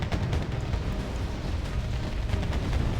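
A nuclear strike detonates in the real-time strategy game Wargame: Red Dragon, giving a steady, loud, broadband rumbling roar with crackling that holds at full strength for about three seconds without a break.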